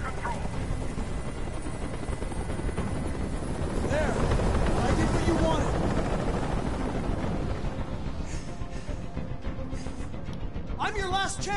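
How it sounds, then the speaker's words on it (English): A helicopter hovers overhead in the video game Detroit: Become Human, a loud steady rotor thrum and wash dominating throughout, with voices speaking over it. "I can't stand that noise anymore. Tell that helicopter to get out of here."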